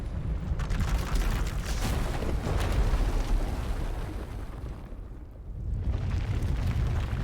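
A huge power eruption tears through an asylum in Star Wars: The Old Republic, a long roaring explosion with deep rumbling and crackling bursts that dips briefly before surging back loud.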